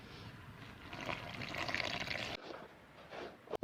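Cold water is poured into a bowl of wheat flour and semolina to knead dough for rziza outdoors, giving a steady close splashing trickle that softens briefly near the end.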